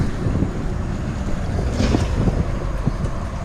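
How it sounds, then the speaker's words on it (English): Strong, steady wind buffets the microphone outdoors in downtown Little Rock, a constant low roar with gusts rising and falling and no voices over it. "This wind's kicking pretty rough. I don't know how it's doing on the audio."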